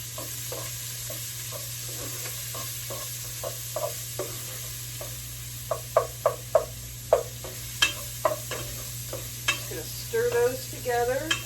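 Onion frying in rendered bacon fat while a spoon stirs it, a soft sizzle under a series of regular scraping and clacking strokes that grow louder toward the end.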